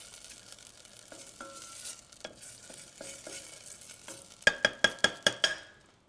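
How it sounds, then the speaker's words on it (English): A spoon scrapes and stirs a lemongrass, garlic, ginger and chili paste in a pan, soft faint scrapes and a low sizzle, ending in a quick run of sharp metallic taps on the pan's rim. "Just give that a nice stir."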